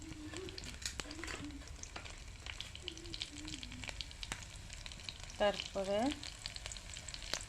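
Garlic fries in hot oil with a steady, soft sizzle throughout, fairly faint, while someone speaks quietly over it in a home kitchen cooking spinach.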